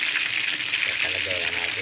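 Chicken coated in crispy fry breading mix frying in hot oil, a steady loud sizzle and crackle throughout, close up.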